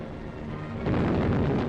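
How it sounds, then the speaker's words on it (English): A deep, rumbling wartime earthquake bomb blast bursts on a Norwegian fjord shore during the Tirpitz attack, a dense low roar swelling abruptly after a brief murmur of crackly newsreel sound. "An earthquake bomb bursts on the shore, but 3 others hit the Tirpitz"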